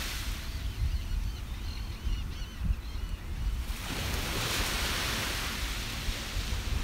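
Waves wash onto a beach while wind blows steadily, a continuous broadband roar that swells louder in the second half with a rushing surf surge.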